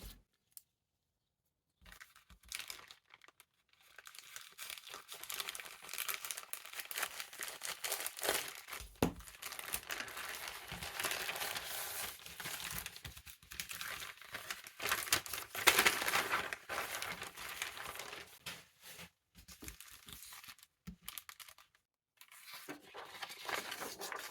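A parcel holding an embroidery kit is unwrapped, with plastic packaging crinkling, rustling and tearing in bursts over about twenty seconds, close and moderately loud, with brief quiet pauses and no talking.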